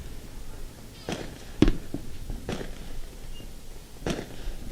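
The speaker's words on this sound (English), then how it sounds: "Fireworks going off to our right." Fireworks bursting near a baseball field on a July 4 night game, several distant muffled pops spread irregularly over steady crowd and field ambience, without clear talk.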